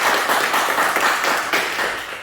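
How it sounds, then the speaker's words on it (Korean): A small class claps steadily for students after their presentations, a dense, even patter of hands lasting a couple of seconds with no talk over it. "우리 박수 한번 칠까요?"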